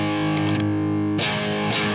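Stratocaster electric guitar on the bridge pickup in single-coil mode, a beat-up Strat with a Floyd Rose, sounding a sustained distorted chord that fades, then two fresh strums ring out loud and close, alone.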